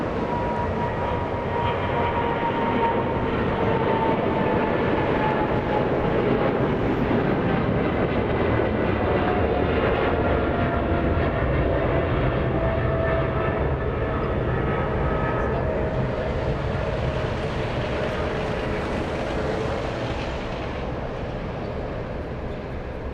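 A big freighter jet heading to Shanghai climbs out of Los Angeles International Airport with a loud sustained roar and a slowly gliding engine whine, steady for a long stretch before easing slightly toward the end.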